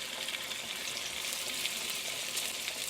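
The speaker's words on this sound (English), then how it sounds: "Let's go ahead and get our filet mignons in. And that way our bottoms can get a little seared." Filet mignon steaks sear in hot olive oil, giving a soft, continuous hiss of frying at moderate distance, steady throughout with no voices.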